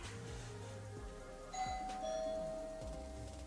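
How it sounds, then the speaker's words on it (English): A doorbell chimes twice, bright ding-dong tones ringing out over a low steady background hum. "She's gonna knock at the door soon. Ring the doorbell."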